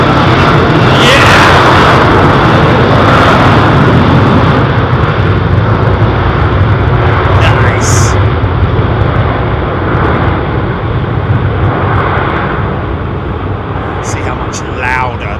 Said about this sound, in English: See how much louder the multi-bladed engines are.